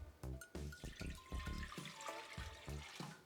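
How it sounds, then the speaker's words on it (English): Three cups of water are poured into a cooking pot, a faint gurgling splash with rhythmic glugs and sloshes running throughout, with no talk. "I'm gonna dump the water in there."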